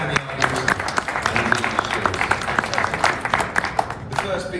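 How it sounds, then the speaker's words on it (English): Press-conference audience applauding at a DAZN boxing event, a scattered round of individual claps with some crowd murmur underneath. "Round of applause for Daniel"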